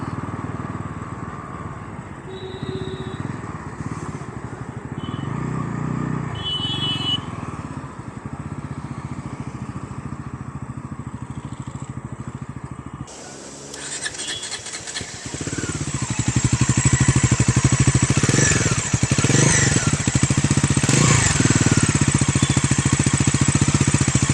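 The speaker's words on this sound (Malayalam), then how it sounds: "എന്തായാലും നമുക്ക് ഉടനെ തന്നെ നിർത്തിയിട്ട് ഇതിൻ്റെ എക്സോസ് നോട്ടും കൂടെ ഒന്ന് കേട്ട് നോക്കാം" A Bajaj Pulsar NS400Z motorcycle engine idles with a steady mid-pitched exhaust burble, then revs louder and grows rough and forceful at close range, with no talking.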